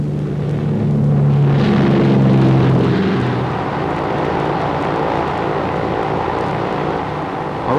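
A KLM Royal Dutch airliner arriving at an international airport gives a loud, broad engine roar that swells and then settles into a steady rumbling drone, with a droning tone heard early on and no talking.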